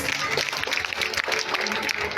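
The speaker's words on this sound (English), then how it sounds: "Please give a big round of applause for those kids." An audience applauds kindergarten children after their parade at a school Republic Day celebration in India; the dense, continuous clapping is close and loud, with voices mixed into the crowd.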